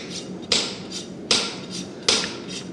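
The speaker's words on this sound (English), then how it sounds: "He's doing a good job with overlapping his rasp." A farrier's rasp is drawn across a horse's hoof wall in three loud, close strokes, each a sharp scraping rush fading out, evenly spaced with no talking.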